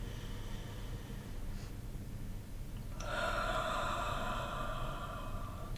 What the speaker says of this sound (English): take in a few nice long deep breaths, in through your nose and out through your mouth